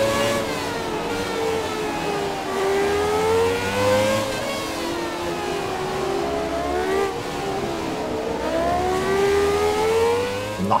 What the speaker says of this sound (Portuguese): Eu vou ficar um pouquinho quieto para vocês ouvirem um pouco do motor que eu falei a corrida toda aí.